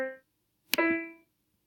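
A piano plays a third interval, one clear struck chord that rings for about half a second in quiet surroundings after a previous note fades.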